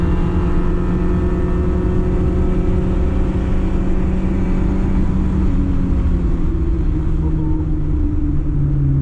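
A car passes on a Mini track day at Castle Combe circuit, its engine a loud steady rumble that holds throughout with a slight shift in pitch as it goes by.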